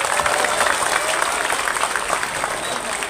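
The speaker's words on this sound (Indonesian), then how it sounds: "Tepuk tangan untuk Indramayu." A crowd applauds for Indramayu at an outdoor religious sermon gathering in Desa Cempeh, dense steady clapping filling the whole stretch at moderate loudness.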